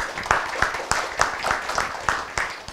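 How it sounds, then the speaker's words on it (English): A small audience applauding for speakers on a water governance panel about the Mekong River Basin, a short burst of scattered, uneven clapping in a room, nearby and moderately loud. "Please give them a big round of applause."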